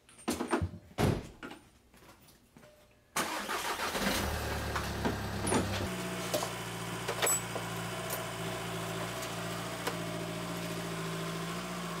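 A VW Jetta TDI with a manual transmission and a newly replaced clutch and flywheel is started: a few clunks and a door shut, then the diesel cranks and catches into a steady, close idle hum.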